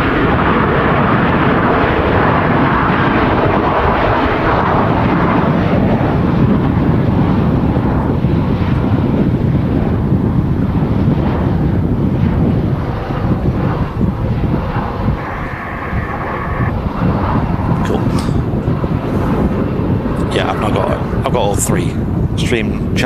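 A Boeing 737-800 airliner roars loudly and continuously amid strong wind buffeting the microphone at a very windy airport, with brief voices near the end.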